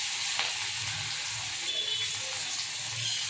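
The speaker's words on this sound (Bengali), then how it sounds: "এই যে মাছ ভাজছি দেখে, এই যে ফোড়ন দিচ্ছি কালো জিরে" Catla fish pieces fry in hot oil as black cumin seeds are tempered in it, a steady soft sizzle with faint crackles running throughout, close and without voices.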